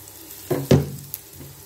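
Chicken frying in a pan, heard as two short bursts of sizzling and stirring with a faint clink afterward, close and brief with no talking.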